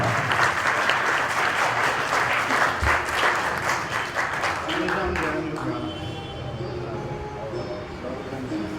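Loud, dense applause from an assembled audience welcoming guests at a memorial function and bhandara in Haridwar, fading to a softer tail in the final seconds as voices murmur.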